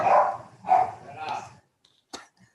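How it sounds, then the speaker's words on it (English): Barking from a dog heard over a remote meeting connection, three loud, drawn-out barks in a row followed by silence and a faint sharp click, with no talk. "Sounds like a dog."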